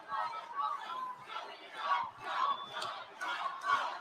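Rally crowd roaring and cheering in waves, with whoops and shouts rising and falling throughout, loud and sustained in a large outdoor political rally audience.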